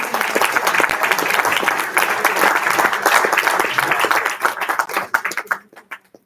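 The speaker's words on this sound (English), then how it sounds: "let's give these guys one more round of applause" An audience at a state party chair candidate debate breaks into loud sustained clapping that thins into scattered claps before fading out.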